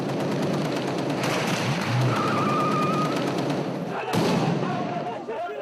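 Dense bursts of street gunfire from Hamas fighters crackle and thud continuously, loud and chaotic, with a voice talking over the shooting.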